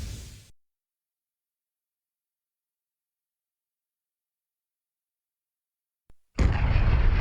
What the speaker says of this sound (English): An eruption. He said.